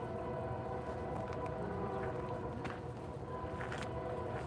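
A distant approaching Norfolk Southern train in Ooltewah, Tennessee gives a steady, droning rumble with a faint horn-like tone that holds throughout.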